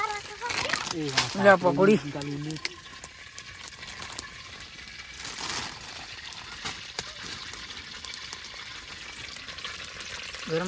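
Pakodi fry in hot oil with a soft, continuous sizzle that runs the whole time, while people talk nearby and a voice rises briefly early on.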